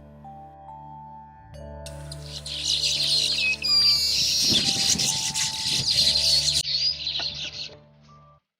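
Several birds call and chirp in a wetland with adjoining grasslands, bright repeated tweets and trills layered over a low steady hum, moderately close and rising in density through the middle.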